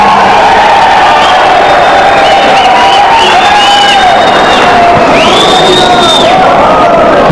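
A large crowd cheers, whoops and claps loudly at a Telugu Desam Party gathering at an IT event in Bangalore, a sustained roar with shouted voices rising above it.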